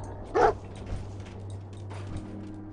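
Dogmeat, the dog companion in Fallout 4, gives a single short bark over a steady low game hum, fairly close and clear, with faint background movement afterward.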